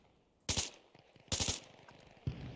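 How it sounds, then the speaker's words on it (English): Bursts of machine gun fire in the video game Arma Reforger: three short, loud volleys close by, separated by brief pauses with faint clatter in between. "Can you guys hear me shooting"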